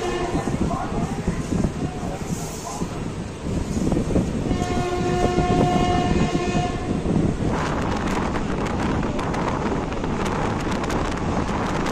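A Hool Express passenger train on the Howrah–Siuri route runs at speed with a steady, loud rumble of wheels and carriages under wind buffeting, and a horn sounds for a few seconds midway.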